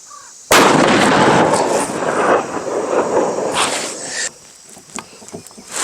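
.50 BMG rifle firing a single shot outdoors: a sudden, very loud blast that rings and rumbles for several seconds before cutting off sharply, followed by quieter background sounds.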